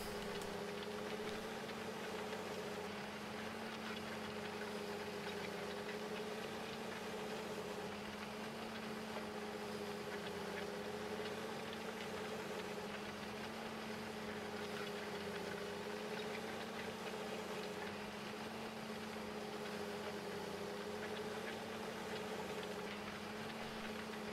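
Tractor engine in Farming Simulator 15, a steady low droning hum with a faint mid-pitched whine holding constant throughout, quiet and unbroken with no voices.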